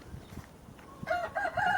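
Ornamental chickens in a farmyard pen crowing and clucking, faint at first with soft low clucks, then a couple of clearer crows rising near the end.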